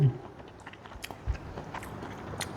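Someone bites into sweet-boiled squid with roe, making a few soft, close chewing and crunching sounds. Faint mouth noises and light crackles fill the short moment.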